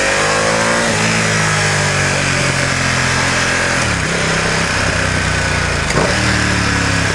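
A Ducati XDiavel S motorcycle engine revs hard under acceleration on an open road, loud and continuous, with rising and falling engine tones across gear changes.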